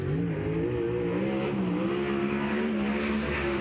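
A race car on a qualifying lap at Placerville Speedway, a dirt track, roars loudly and steadily. The engine pitch climbs and wavers as it pulls through the lap, with no voices over it.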